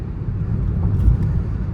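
Mahindra XUV 3XO driving on a highway, a steady low road and engine rumble from inside the cabin with no talk.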